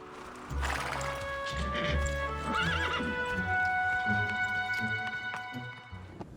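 A horse neighs loudly and close by, a long whinny, amid clip-clopping hooves on hard ground, with faint voices in the background.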